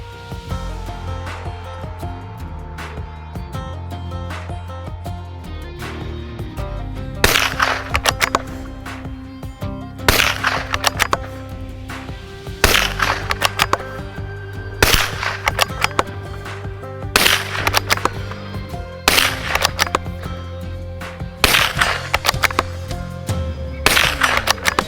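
CZ 457 synthetic rifle in .22LR firing a steady series of sharp, short shots at regular intervals, nearby and fairly loud over a continuous background hum, no talking.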